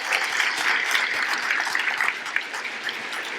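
Audience at a gala applauds steadily, a dense wash of hand clapping sustained throughout at moderate loudness, with no voices standing out.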